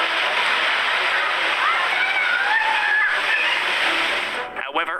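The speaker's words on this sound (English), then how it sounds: "Sea waves are just touching its banks." Sea waves wash up against a swimming pool on a Mexican beach with a constant loud rushing surge, water sloshing and splashing throughout before briefly easing at the end.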